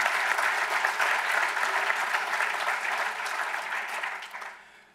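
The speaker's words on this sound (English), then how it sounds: "Let's give them another round of applause." Sustained audience applause at a memorial gathering at the Newseum in Washington, D.C., a dense wash of many hands clapping steadily for about four seconds before tapering off near the end.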